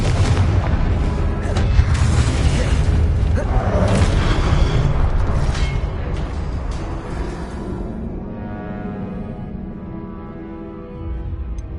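Confringo explosive spells blasting in the Hogwarts Legacy video game: loud, dense booms and crackling bursts pile up for several seconds, then thin out into a fading rumble, with a voice shouting over them.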